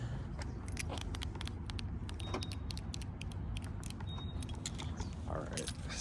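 Subaru Forester car keys jangling near a truck, repeated light metallic clinks scattered over steady outdoor background noise, with someone speaking briefly.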